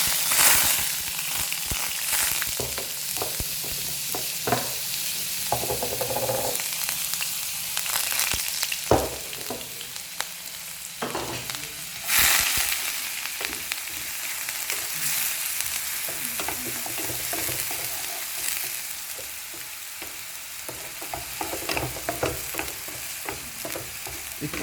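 Onions frying and sizzling in hot oil for Assamese-style pork with bamboo shoot, a steady crackling hiss with occasional stirring scrapes and pops, close and continuous with no talk.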